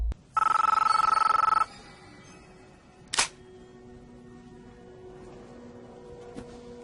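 A telephone rings once in a short, bright electronic burst, close and alone, followed by a sharp click as the handset is picked up and a quiet line hum.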